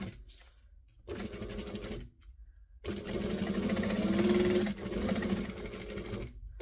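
A sewing machine stitches a seam in short bursts of rapid mechanical whirring, separated by quick pauses, then a longer steady run, close and clear with no talking.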